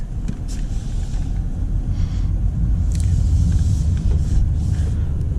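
A BMW M340i LCI rear-wheel-drive sedan in drive, heard as a steady low engine and road rumble from inside the cabin, holding fairly constant and loud with no talking over it.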